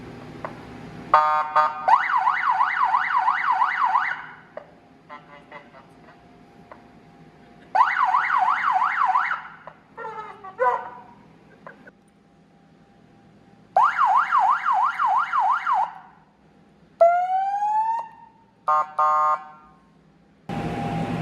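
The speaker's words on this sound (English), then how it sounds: "Siren for the next tractor run." A small electronic siren cycles through several warbling wail patterns in separate bursts, with short pauses and a rising sweep tone between them.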